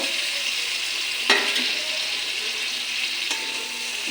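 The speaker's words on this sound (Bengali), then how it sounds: "এখন ভাজা করা ফুলকপি আলুটা ঢেলে দেব" Fried cauliflower and potato tipped into a hot pan of cooked spice paste, a steady near sizzle with two sharp clatters of the vegetables and utensil landing, and no one talking.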